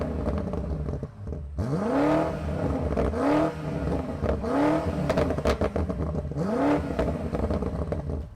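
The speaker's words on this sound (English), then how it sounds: "I think it's finally time to rev this bad boy up" A 2021 BMW M8 Gran Coupe engine revved four times in succession while stationary, each blip climbing sharply and falling back, loud and close with crackles between rises.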